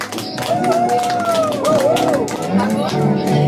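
Audience applause for a performer named Claire at a televised stage show, steady clapping and crowd chatter mixed under loud music and a voice across the whole stretch.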